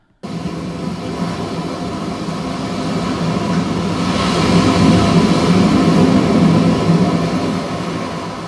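A trimmed recording of ocean waves plays as a continuous broad wash of noise that starts abruptly, swells slightly toward the middle and stays loud throughout, with no voices.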